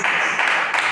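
A church congregation claps to welcome the pastor, a short burst of dense, steady clapping from many hands at moderate loudness, with no voices above it.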